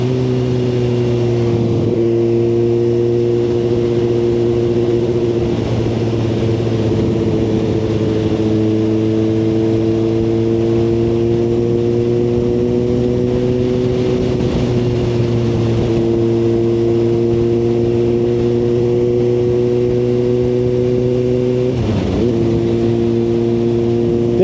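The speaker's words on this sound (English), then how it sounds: "This Akrapovic GP exhaust sounds pretty darn cool." A Suzuki GSX-R1000R sport motorcycle with an Akrapovic GP exhaust drones steadily at speed, loud and close, its pitch rising and dipping slightly with throttle changes.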